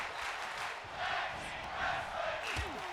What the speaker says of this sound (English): The crowd here in Scotland chanting for tag team wrestling.